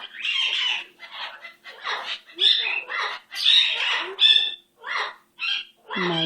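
A pet bird gives a series of harsh, raspy squawks up close and loud, about a dozen rough bursts in an uneven rhythm with brief silent gaps between them.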